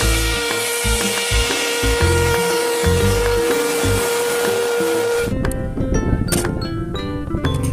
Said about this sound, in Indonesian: lihat ada lokomotif kereta api